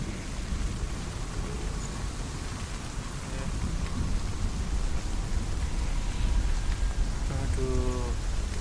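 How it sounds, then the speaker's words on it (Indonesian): Steady rain falls and patters on surfaces in a dark fantasy game world, a constant hiss with a faint low thunder rumble and a few brief tonal blips near the end. "Hujan."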